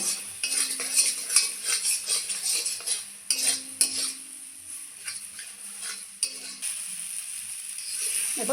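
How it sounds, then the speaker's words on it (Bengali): Chilli powder fries in a pan for a banana-blossom paste while a spatula scrapes and clinks against the metal in repeated strokes over a soft, continuous sizzle. "অল্প করে একটু ঝাল লঙ্কার গুঁড়ো ভালো করে একটু ভেজে নেব"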